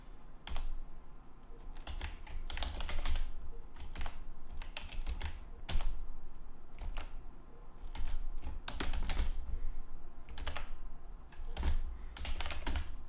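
Rapid, uneven bursts of keystrokes on a computer keyboard while PHP code is typed, close and clear, with short pauses between runs of typing.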